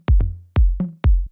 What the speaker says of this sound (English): which is using a lower tom, playing it really fast to get that kind of, like rolling effect into the next bar.